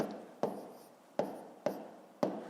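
A pen scratches out a maths calculation on paper in four short, crisp strokes at an uneven pace, close up and quiet.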